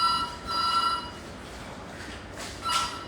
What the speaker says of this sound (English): I'm so sorry, but the intercom is ringing.